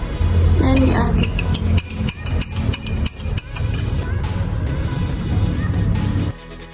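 A spoon clinks and scrapes against a container while stirring water and oil, repeated metallic taps over a busy background with music-like tones.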